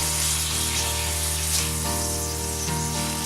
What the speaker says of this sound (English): 1 tablespoon of minced garlic. Stir that around the pan.